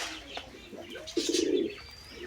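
Grey pigeons coo close by while pecking at scattered grain, a short burst of throaty calls with a louder rolling coo midway and light chirps around it.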